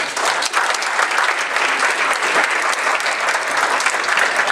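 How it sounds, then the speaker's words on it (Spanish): A loud, full round of welcoming applause fills an engineering-week conference hall as a speaker is introduced, dense clapping sustained evenly from start to finish. "Démosle un fuerte aplauso de bienvenida."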